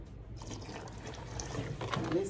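Warm water pours steadily into a pot, a continuous liquid trickle and splash that grows slightly louder toward the end.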